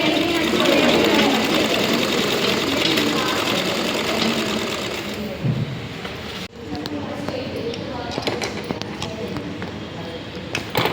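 Sewing machine stitching the border of a blouse, a close, steady whirring run that stops partway and gives way to handling noises, with someone speaking over it.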